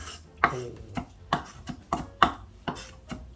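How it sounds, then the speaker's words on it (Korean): A knife mincing eggplant dish ingredients taps down on a cutting board in steady, evenly spaced chops, about two per second, close and crisp with no talking. "칼로 모든 걸 다져."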